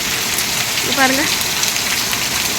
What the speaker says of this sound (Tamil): பாருங்களா எவ்வளோ தூரம் மழை பெய்யுதுன்னு பாருங்கள் ஃப்ரெண்ட்ஸ்